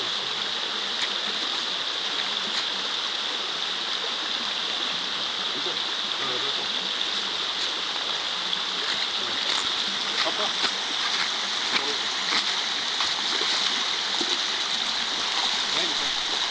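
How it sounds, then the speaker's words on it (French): River current flowing in a wild outdoor setting, a steady bright rushing and splashing of water that holds at an even level throughout with no pauses. "bercé par le courant de la rivière"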